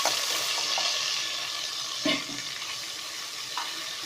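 Ground spice paste of cinnamon, cardamom, clove and ginger frying and sizzling with cashews in hot oil for chicken biryani, a steady soft sizzle with brief stirring scrapes and no talk.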